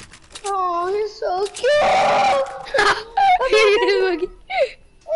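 A dog whines and screams in repeated high, wavering wails and whimpers, loud and close, broken by short pauses, while people talk and exclaim over it.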